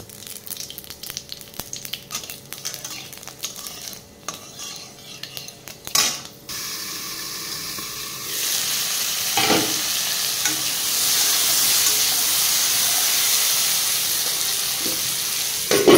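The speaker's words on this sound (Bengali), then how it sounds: "তো চলো পটল ভাজাটা বসিয়ে দিই" Slices of pointed gourd (potol), coated in salt and turmeric, hiss and sizzle steadily in a hot wok, the frying getting louder and fuller after a few seconds of clattering setup.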